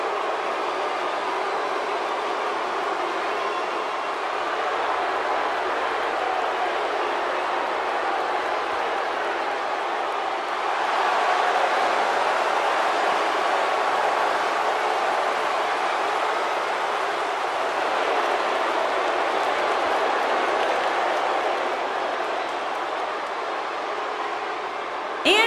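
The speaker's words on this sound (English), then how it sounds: "Would you listen to this crowd?" Arena crowd in WWE 2K18 at a Braun Strowman versus Kevin Nash match, heard as a steady, dense roar of cheering noise that swells slightly midway and holds loud throughout with no clear voices.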